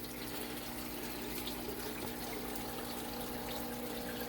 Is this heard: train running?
no